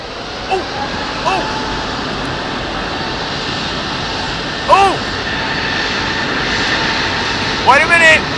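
A jet engine starting up roars steadily, a continuous whining hum, while brief high chirps and short squeaks pop up a few times over it.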